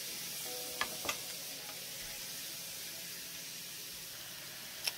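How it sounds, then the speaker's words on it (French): Grated vegetables being stirred into translucent onions in a pot make a quiet, steady sizzle, broken by a few soft clicks and scrapes from the spoon. "on vient mélanger le tout avec nos oignons"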